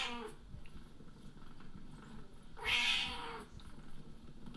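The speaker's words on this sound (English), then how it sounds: "Purring cats." A cat meows once, loud and close, over low background noise. Faint rustling comes before and after, and no clear purring stands out.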